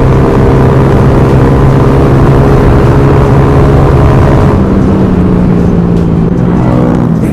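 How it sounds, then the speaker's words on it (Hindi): A KTM Duke 390 third-generation motorcycle with an Akrapovic exhaust accelerates past on a road, its loud engine drone rising and shifting in pitch throughout. "ये देखो भाई बाइक कैसे निकलती है भाई एकदम से।"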